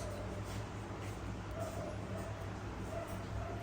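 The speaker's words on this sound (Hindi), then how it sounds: "There are street dogs fighting." Street dogs fighting outside, heard faintly from a distance as yips, whimpers and short barks under a steady low background hum.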